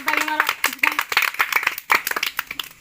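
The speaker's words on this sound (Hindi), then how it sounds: "ताली पे ताली मारो" Clapping in a classroom quiz, a quick run of sharp claps repeated in bursts, heard close amid ongoing children's and adult voices.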